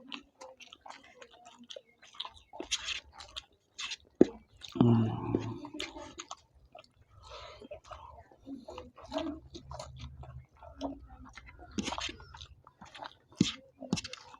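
Close-up chewing of rice with bitter gourd, soft wet crunching and squishing bites in an irregular rhythm, with brief quiet voices in between.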